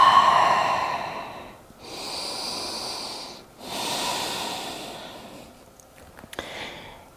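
Slow, deep breaths during a yoga session on the mat, three long airy exhales with short pauses between them, close and soft, with a brief rustle at the end.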